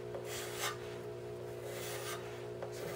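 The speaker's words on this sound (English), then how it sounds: "part of this learning experience is actually listening to the wooden scraper" A wooden scraper drawn slowly across a wood surface gives soft, faint rasping strokes, a few deliberate passes spaced apart over a low steady background hum.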